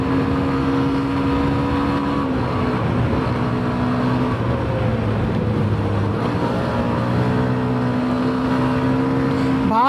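A new 2026 Hero Xtreme 125 motorcycle ridden hard through city streets, its engine droning steadily and loud throughout with rising revs and wind rush, traffic noise around it.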